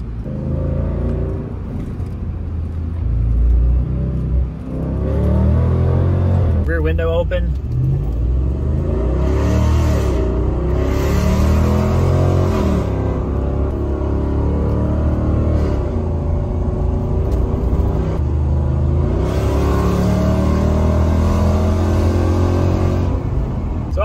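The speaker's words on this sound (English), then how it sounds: "obviously the truck is raspy because it's duals" Ram 1500 pickup V8 with universal mufflers, resonator delete and true dual exhaust revs loudly with a raspy, aggressive tone, sustained rumble throughout while a person talks over it.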